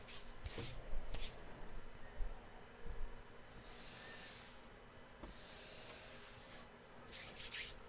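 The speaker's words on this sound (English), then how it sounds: "there's definitely no getting around some of the hand filing in here" Hand filing on a part during a build, with repeated soft rasping strokes in uneven bursts, some longer hissing passes, close and fairly quiet with no talk.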